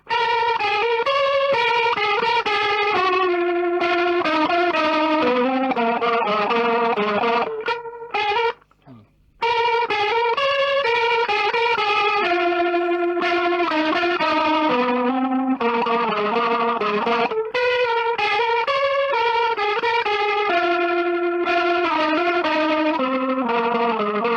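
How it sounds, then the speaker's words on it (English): Distorted electric guitar through a Boss TR-2 tremolo and Tube Screamer overdrive pedal plays pulsing, wavering chords and notes, with a tremolo throb running through, briefly dropping out partway before resuming. "the Boss Boss TR2 tremolo, and a little bit of tube screamer as well"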